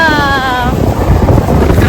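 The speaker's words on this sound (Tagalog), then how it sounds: "Grabe! Ang hangin!" Strong wind in New Zealand buffets the microphone with a loud, roaring low rumble, preceded by a faint high wavering tone at the start.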